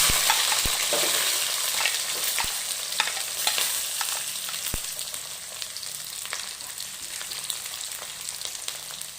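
Garlic sizzles steadily in hot oil after mustard seeds have popped, a dense crackling hiss with occasional sharp pops, fairly loud and close, with no voices.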